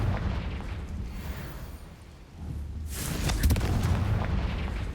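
A Confringo fire spell blast in Hogwarts Legacy lands as a sudden booming burst with crackling fiery debris after a steady rumbling game backdrop, loud and close, alone without talk.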